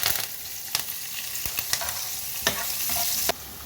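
Curry leaves and green chillies sizzling in a hot pan, a steady frying hiss broken by sharp crackles and spatters, with no talking.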